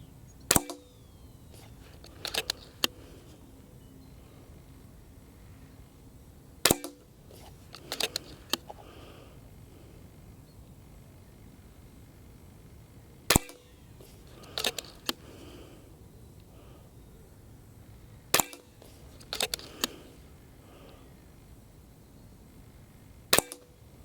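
An FX DRS regulated sub-12 ft-lb air rifle fires at 25 metres, heard as sharp, close cracks spaced several seconds apart, each followed by small mechanical clicks and rattles of cocking and loading in a quiet setting.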